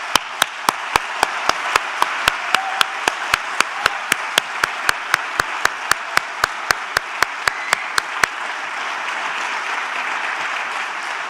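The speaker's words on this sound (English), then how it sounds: "Please join me in giving them a round of applause." Loud, sustained applause from a large conference audience, with a dense wash of clapping and a regular sharp tick running through it before it fades.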